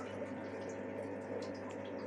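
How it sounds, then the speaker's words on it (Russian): Water trickles steadily from a drip line into an aquarium at a home fish-breeding setup, a continuous soft liquid hiss and patter under a low steady hum. "Там капельница сверху. Вон, и она капает"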